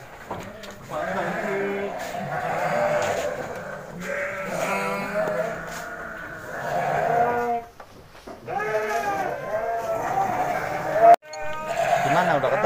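Goats bleat repeatedly at a sacrificial animal market in Kuningan, several overlapping cries near and loud, with people talking throughout.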